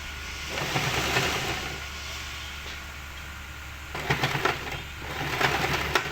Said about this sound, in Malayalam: പഴയ മെഷീൻ ആയതുകൊണ്ടാണ് ഇത്ര സൗണ്ട് വരുന്നത്.